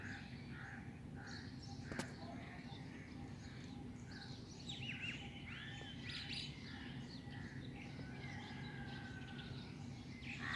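Small birds chirp and tweet in scattered short calls outdoors, fairly faint over a steady low background hum, with a crow cawing among them.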